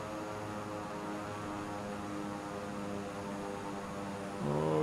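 Steady propeller aircraft engine drone from a Microsoft Flight Simulator plane flying low, a continuous harmonic hum that dips slightly as the throttle eases back, then rises and shifts pitch near the end.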